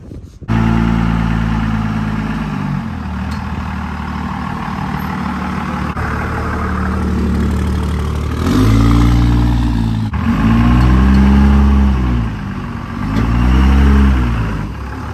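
A monster truck engine idles with a deep, steady rumble, then revs up in three strong surges toward the end, loud and close with no talk over it.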